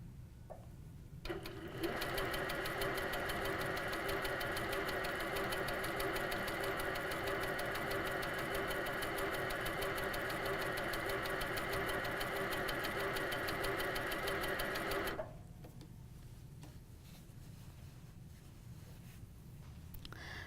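An HQ Sweet Sixteen sewing machine with loosened top tension stitches continuously for about thirteen seconds, a steady, even mechanical whir and rapid needle chatter that starts and stops abruptly against a quiet room.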